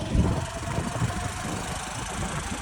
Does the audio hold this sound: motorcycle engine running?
yes